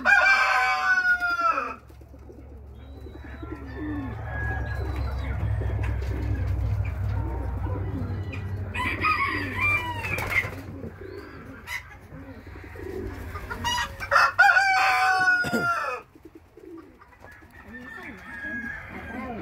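On a small farm with hens, silky chickens, a peacock and pigeons, roosters crow repeatedly, near and loud, over clucking, cooing and low rumbling background. Someone speaks briefly.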